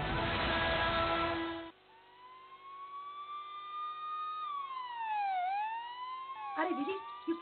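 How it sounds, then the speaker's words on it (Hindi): A police car siren wails in long rising and falling sweeps, loud and alone after a burst of other sound, with a brief jumble of noise near the end. "अरे दीदी, ये पुलिस की गाड़ी कहाँ से?"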